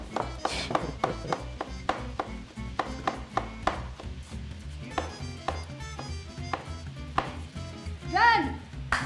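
Onions are chopped with a knife on a board in a rhythmic run of crisp, close chops, with a brief clatter near the end.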